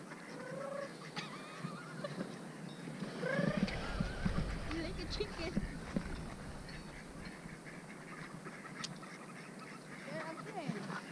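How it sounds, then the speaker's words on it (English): Ducks being fed in a park give scattered quacks and honking calls around a close listener, mixed with rustling and steady outdoor background, while people talk nearby. "Żona feeding ducks."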